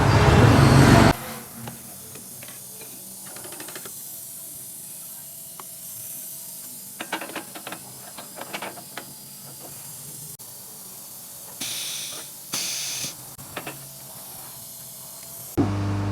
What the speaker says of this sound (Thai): เดี๋ยวเราไปอัดสเปรย์แล้วแบบพ่นกันครับ